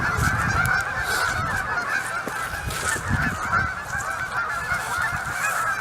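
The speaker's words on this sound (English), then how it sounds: "Sorry about the racket the geese is making." A large flock of roughly 600 geese honking in a dense, continuous chorus after being chased back into the water by a dog, loud and overlapping throughout with no talk.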